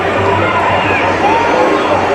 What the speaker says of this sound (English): Now you can hear the crowd, can't you, just urging their side on